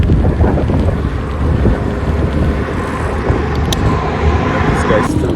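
Steady wind buffeting a microphone on a trail during a bike ride, a constant low roar of rumble and gusts running the whole time with no clear speech.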